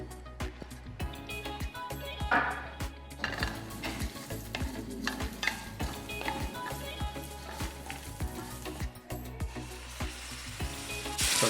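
Oil for tempering with finely chopped garlic and green chili for sarson ka saag, sizzling and crackling in a pan alongside stirring and utensil clinks, steady and close throughout, with some faint voice in the background.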